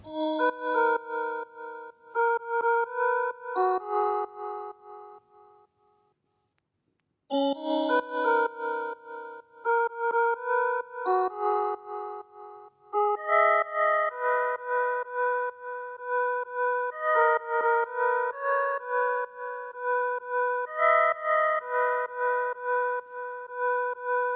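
A machine lead synth in Ableton Live traces a vocal melody with bright, bell-like harmonic notes in a steady stepping pattern, clear and alone, with a brief pause near the start.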